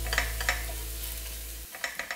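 Garlic and onion fry in a pan, giving a soft steady sizzle with a low hum underneath. A couple of light stirring scrapes come early and a few more come near the end.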